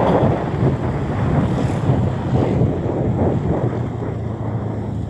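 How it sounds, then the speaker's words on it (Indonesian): Strong wind buffeting a microphone outdoors on a road near a school and mosque, a loud, continuous low rumble and roar with gusting swells that blanket the scene, no speech heard. "kayaknya anginnya lumayan bikin berisik juga"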